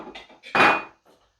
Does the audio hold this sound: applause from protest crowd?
no